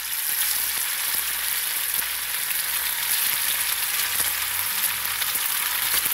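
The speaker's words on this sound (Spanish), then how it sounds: "le coloqué aceite suficiente para poner ahí nuestros filetitos de pescado. Ya está bien caliente sin que llegue a sacar humito." Fish fillets for fish tacos fry in plenty of hot oil that is not yet smoking, making a steady, even sizzle and crackle that runs unbroken and close up with no talking.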